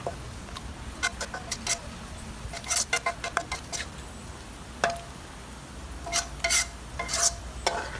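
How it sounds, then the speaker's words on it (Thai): Sliced shallots frying in hot oil for a Thai custard dessert, a continuous soft sizzle with scattered crackles and sharp pops bursting through at irregular moments, close and unaccompanied by talk. "จากนั้นค่ะให้เราใส่หอมแดงลงไปเจียวค่ะ"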